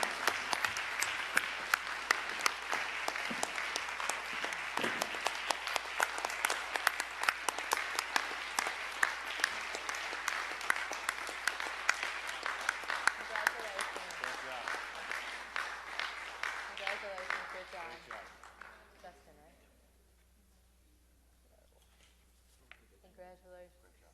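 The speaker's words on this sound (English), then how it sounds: "Let's have a big round of applause." Audience applause at a school board of education meeting, a sustained round of steady clapping for about eighteen seconds that fades out, leaving near silence with a few faint sounds at the end.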